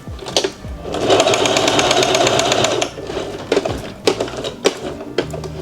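A sewing machine stitches through vintage Levi's denim at a stitch length of about 3, running in a steady mechanical whir for about two seconds, then pausing into short clicks and bursts as the needle is walked.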